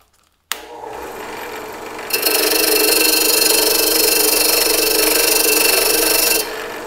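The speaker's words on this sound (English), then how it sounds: "the cupped brush does pretty well. So let's turn this on and see what happens." A power tool fitted with a cupped wire brush scrubs rust off the rim of a 1940s SunFlame 3016 gasoline lantern, a steady loud whirring grind that starts abruptly, rises in pitch, holds and then cuts off.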